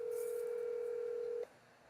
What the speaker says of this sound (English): We're going to get Brett on the phone for us.